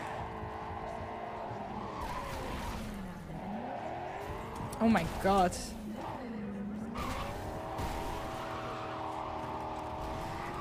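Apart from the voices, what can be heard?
car skidding and crashing in Cyberpunk 2077 video game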